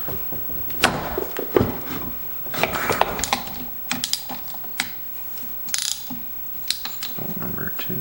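Ratchet wrench clicking as it backs transmission bolts out of a Homelite T12, in bursts of rapid ratcheting with brief pauses between bolts, close and fairly loud, with no talk.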